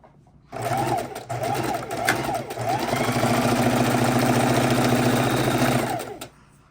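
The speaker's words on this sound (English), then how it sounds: "And we're going to sew across, making sure we do not sew on the selvage." A sewing machine stitches a border strip onto a quilt top, whirring steadily and close for several seconds, with a few short pauses before it runs continuously.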